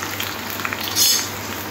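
Garlic and potatoes fry in a pan with a steady, close sizzle, joined by faint scrapes of a utensil and a brief louder hiss near the middle.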